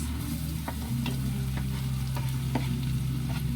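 Onions sizzling and frying in garlic butter for shrimp, a steady close hiss with light stirring clicks and scrapes throughout, no voices.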